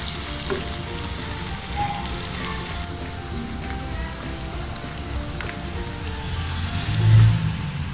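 Green beans sizzle in a pan of frying garlic-ginger paste, giving a steady hiss and crackle of oil that holds at a constant level, with a brief louder bump near the end.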